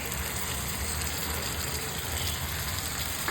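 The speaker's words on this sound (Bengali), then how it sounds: "মিক্সি ধোয়া জলটা আমি এর মধ্যে ঢেলে দিলাম।" Blender rinse water poured into a cooking pan of Bengali doi ilish (hilsa in yogurt), a steady close gushing splash of liquid that runs unbroken for a few seconds, with no talk.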